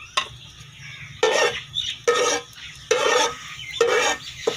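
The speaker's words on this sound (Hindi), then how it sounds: "थोड़ी सी घी के अंदर साबुत ज़ीरा डाल दें" Whole cumin seeds frying in a little hot ghee: bursts of bright sizzling and crackling that swell and fade several times, with quieter gaps and faint pan and stirring noise between them.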